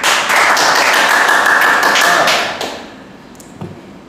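An audience at a formal gathering applauds in a thick, loud burst of clapping that holds for a couple of seconds and then fades away.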